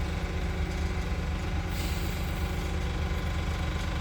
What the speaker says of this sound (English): And then you hear du-du-du-du-du-du and the engine starts up.